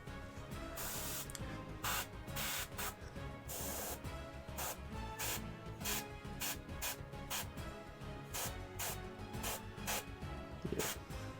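An airbrush sprays paint onto a miniature tank model in a rapid series of short hissing bursts, close up and steady, with no voices.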